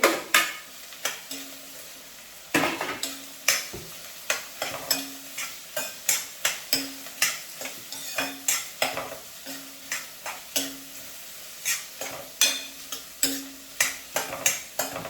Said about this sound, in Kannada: ಈರುಳ್ಳಿ ಮತ್ತು ಮೆಣಸಿನ್ಕಾಯಿನ ಹಾಕ್ಕೊಂಡು ರೋಸ್ಟ್ ಮಾಡ್ತಾಯಿದ್ದೀನಿ